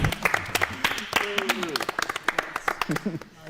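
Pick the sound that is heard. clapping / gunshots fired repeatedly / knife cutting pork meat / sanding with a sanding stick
clapping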